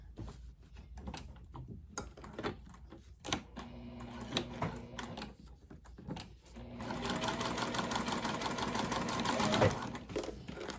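A sewing machine stitches a tall wallet sewn with Optipop thread, first in short stop-start bursts of rapid ticking, then in a longer run of fast, steady mechanical clatter, close and clear.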